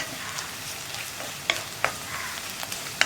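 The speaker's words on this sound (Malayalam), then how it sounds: "ഇനി ഇതൊരു മിനിറ്റ് ഒന്ന് ഇളക്കി കൊടുക്കുക." Turmeric and cumin powder sizzle in a hot pan for drumstick thoran while a spoon stirs, giving a steady close hiss with a few sharp scraping clicks against the pan.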